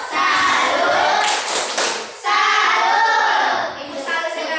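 Classroom 'tepuk salut' clapping chant, with a group of pupils clapping in rhythm and chanting together in a dense, loud burst that briefly dips before resuming.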